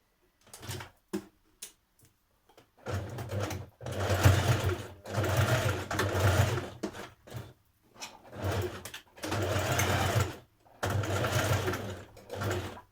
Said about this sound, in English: I'm going to machine stitch it with a zigzag stitch.